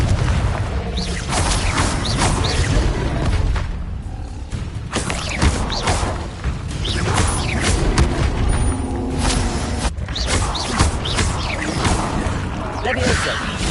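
Confringo blasting spell explosions in the video game Hogwarts Legacy: loud, continuous booms, crashes and whooshes pile up densely, with a voice talking over the din.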